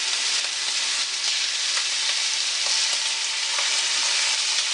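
Steak caramelizes in a hot pan, giving a continuous loud, bright sizzle with small crackles and pops from beginning to end. No voices.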